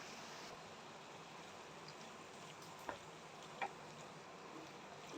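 Mutton liver fries in a pan while it is stirred with masala. A faint, steady sizzle runs throughout, with two brief clinks of the spoon against the pan.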